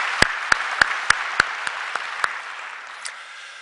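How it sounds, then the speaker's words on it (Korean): A handful of sharp, evenly spaced claps welcoming a visitor at a Korean Sunday church service, about eight distinct slaps at a steady pace that thin out and fade toward the end. "우리 뜨거운 박수로 환영하겠습니다"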